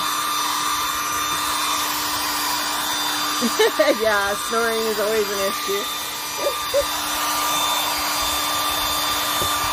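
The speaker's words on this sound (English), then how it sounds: "I'm just using a blow dryer on the chalk paint just to dry it." A blow dryer runs continuously to dry chalk paint on a decoupaged recipe box, its steady airy roar holding throughout while a person talks over it partway through.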